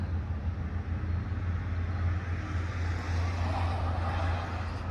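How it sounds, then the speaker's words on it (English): Road traffic rushing past on a Lago Vista, Texas road, a constant loud low rumble and roar of vehicles with no break, heard outdoors and close. "All that traffic."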